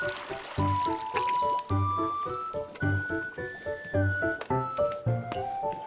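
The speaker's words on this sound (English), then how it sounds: "so I'll just pour everything out, why not?" Tea poured out onto a tree in the video game Wanderstop, a run of bright splashing, dripping tones in quick uneven succession, up close with no talk.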